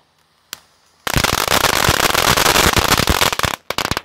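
A single sharp pop, then a loud continuous crackling and hissing spray of a conic fountain firework with colored balls for a few seconds, fading into scattered crackles.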